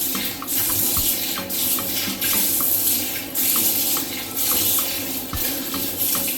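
Running tap water steadily pours over a bubble CPAP basin during rinsing, a continuous close splashing hiss with small clinks and bumps, no voices.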